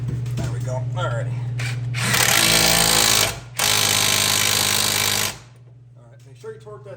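Impact wrench hammering on the CV axle nut of a Ford Edge, two loud, close bursts of about a second and three seconds with a short gap between, talk and background hum before and after.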